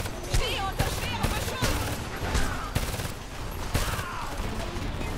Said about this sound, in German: Unter Beschuss!